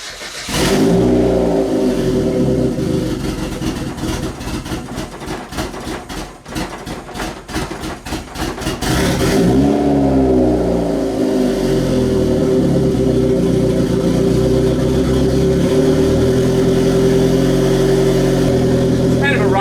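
A car with a freshly installed turbo on the stock ECU starts up and revs loudly nearby: a cranking stutter, then a rough, surging engine roar that climbs and holds steady throughout, with a voice partly heard over it.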